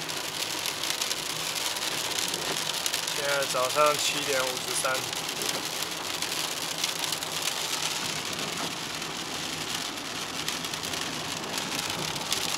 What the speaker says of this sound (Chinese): 要回 A 地，居然给我下雨。